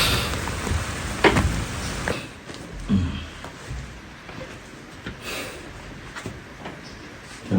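Rain falls steadily outdoors in Jamaica with a dense hiss, while people talk loudly nearby.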